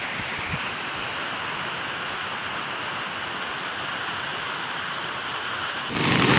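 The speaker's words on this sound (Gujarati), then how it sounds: "આજે તો જોરદાર વરસાદ પડી ગયો છે" Heavy rain pours down in a dense, unbroken hiss, steady and close, swelling louder right at the end.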